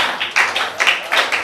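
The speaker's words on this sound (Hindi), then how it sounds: "आओ ताली खूब बजाएं।" Audience at a poetry recital in Delhi breaking into short bursts of hand clapping, several quick rounds of claps close by, fairly loud and without any talk over them.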